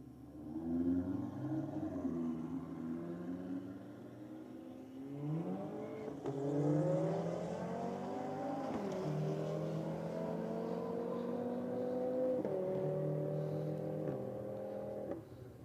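Cars in a roll drag race, an Audi among them, accelerate hard in sustained engine roars whose pitch climbs through gear changes, loud and close with no voices over them.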